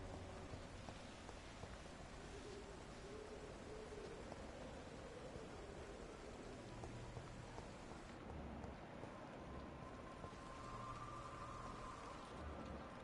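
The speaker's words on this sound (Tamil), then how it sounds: "இருட்டா மழை பெஞ்சிக்கிட்டு" Steady rain falls in the dark streets of the Vampyr video game, a constant hiss of drops and a faint low rumble that continue evenly throughout, with no voices.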